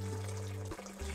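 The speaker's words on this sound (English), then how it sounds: "I need to add more water." Water poured from a tap into a steamer pot used for steaming Malaysian-Chinese sticky rice, a close steady splashing flow that briefly cuts off and then starts again.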